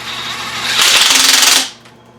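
A power tool, likely a rattling impact or air ratchet, snugs bolts on an engine main bearing cap in a short loud burst of rapid hammering that stops abruptly.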